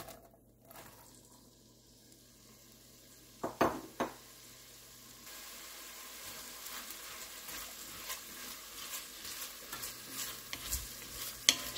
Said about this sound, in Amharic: ሽንኩርቱን በዘይቱ በደንብ አበስለዋለሁ